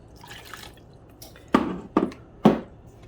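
Half a cup of water poured into a cake-batter bowl for a German chocolate cake, heard as three splashy drips and glugs over quiet room tone.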